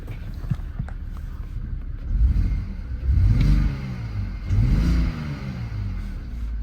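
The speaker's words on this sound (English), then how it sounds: "Very good sounding engine and exhaust" A 2007 BMW X3 3.0Si M-Sport engine and exhaust running below full potential, with a steady low rumble that swells in two short rev-like surges before settling back, close by, with no talking.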